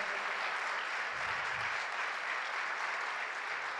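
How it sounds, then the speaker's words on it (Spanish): A church congregation claps steadily in a continuous wash of applause, heard from some distance with a brief low rumble partway through. "Dale más fuerte el aplauso al Rey."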